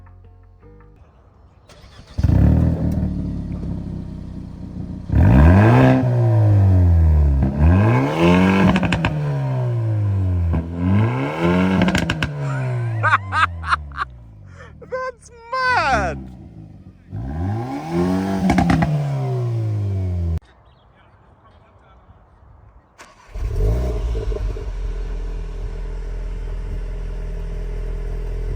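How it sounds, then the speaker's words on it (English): A Volkswagen Golf GTI or Hyundai i30N hot hatchback starts and its exhausts are revved hard several times, each rev climbing and falling, loud and close, with a brief excited remark before it settles. "let's start with the sound test. Let's hear these exhausts."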